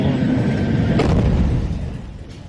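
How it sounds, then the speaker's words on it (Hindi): Heavy blast from an attack on a military bulldozer, a loud broad rumbling roar that sustains and then slowly fades, with a sharp crack near the middle. "किस तरीके से जोरदार धमाका हुआ"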